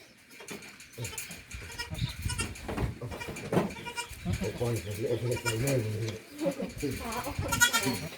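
Meat goats on a farm bleating repeatedly in wavering cries, near and fairly loud, layered under ongoing male speech.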